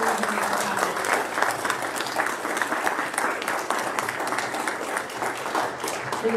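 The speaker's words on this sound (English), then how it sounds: "why don't you give a nice round of applause for the staff here" A room of dinner guests gives a warm round of applause for the staff and family, steady overlapping clapping at moderate level with faint murmurs of voices under it.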